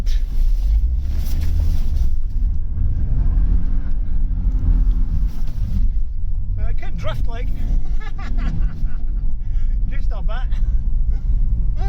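An Opel Omega 2.4i engine rumbles loudly and steadily as the car drives and picks up speed, shifting into third gear, with someone talking over the noise. The car had been parked since 2003.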